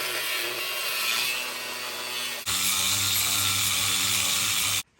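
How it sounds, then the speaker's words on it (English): Steel plate being cut into shock mounts for a Jeep Cherokee XJ pre-runner suspension build, a steady, loud grinding rasp running continuously, briefly dipping near the middle and then resuming stronger until stopping abruptly. "Now I just gotta transfer it over to some steel and cut them out."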